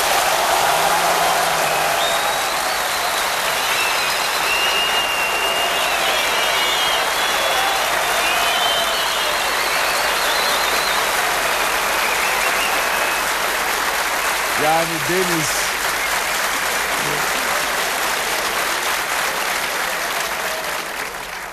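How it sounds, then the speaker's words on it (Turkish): Long, thunderous applause from a large crowd at a university event in Cyprus, sustained and dense for over twenty seconds, with a brief spoken remark and a few whoops mixed in midway. "Müthiş bir alkış"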